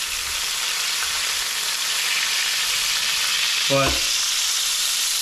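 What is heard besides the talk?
deer tenderloin searing in a hot pan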